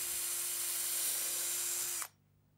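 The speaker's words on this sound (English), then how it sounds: "I'm just going to pre-drill this timber" A power drill whines steadily as it pre-drills a piece of old, long-stored timber for a dining table, a loud, even tone lasting about two seconds before it cuts off abruptly.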